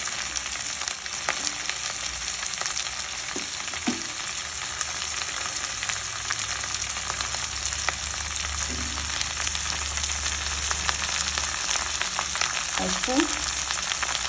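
Soaked chana dal frying in a pan with ponnaganti greens, giving a steady close sizzle throughout with a few faint utensil taps; a voice speaks briefly.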